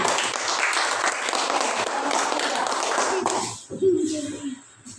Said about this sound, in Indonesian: Ya, tepuk tangan ya